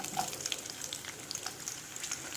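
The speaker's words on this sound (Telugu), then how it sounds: "సో నూనె కాగిన తర్వాత ఒక 1/2 కప్ మీరు ఆనియన్స్ చాప్ చేసుకుని వేసేసుకోండి" Chopped onions frying in hot oil in a pan, a steady soft sizzle with light crackles, fairly quiet and close, no talking.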